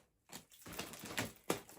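Scissors snipping the tail of a ribbon decoration at an angle on an Easter gift box, a few crisp close cuts with short rustles between them.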